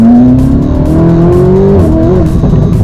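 A Lamborghini Aventador supercar with an aftermarket exhaust screams loudly as it accelerates hard, its engine note climbing in pitch over a continuous roar with no voices.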